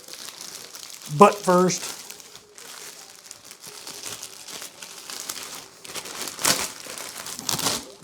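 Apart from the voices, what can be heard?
plastic shrink bag crinkling while packing rabbit meat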